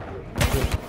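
Rapid bursts of gunfire in Titanfall 2 multiplayer, a quick string of four or five close, punchy shots over a steady game background.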